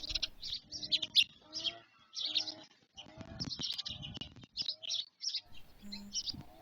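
Sparrows chirp busily near a stork nest in Ukraine, a steady run of bright close tweets in short bursts, with a few low cooing or flapping sounds mixed in.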